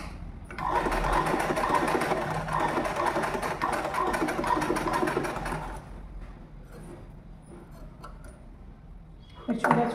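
Sewing machine stitching a uniform skirt, running in a loud steady whir for about five seconds before stopping, followed by quieter handling noise and a brief burst of sound at the end.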